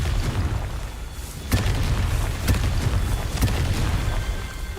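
Confringo spell blasts destroying statues in Hogwarts Legacy, several sharp booming bursts over a low rumbling game ambience, spaced irregularly, with no talking.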